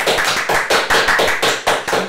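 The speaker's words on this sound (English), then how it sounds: "Please give a round of applause for Matt Valent." Steady applause from a comedy club audience greeting a first-time stand-up comedian, loud and close, a dense wash of clapping with slight swells and no voices over it.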